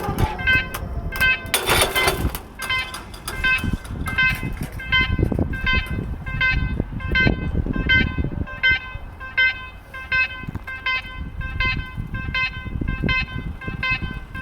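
An Izmir–Isparta passenger train approaches a station in Selçuk, Turkey, its rumble building under repeated rhythmic clatter, with a loud horn blast early on and people talking nearby.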